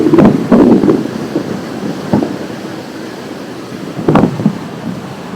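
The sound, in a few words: water noise over boat motors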